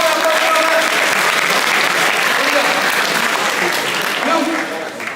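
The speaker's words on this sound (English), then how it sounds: "Go for a walk. Round of applause" A crowd of high school students clapping in an auditorium, a thick, loud burst of applause that holds steady and then starts to thin out near the end, with some voices mixed in.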